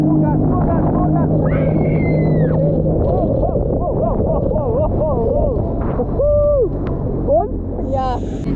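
Jet ski engine held at full throttle on the sea off a beach in Belek, Turkey, a loud steady roar with wind buffeting and voices calling out over it.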